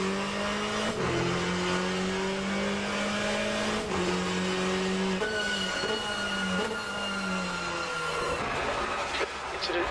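Race car engines in a racing video game whine and shift pitch continuously as a car spins off the track, with steady rising and falling tones and a few abrupt changes, loud and close throughout.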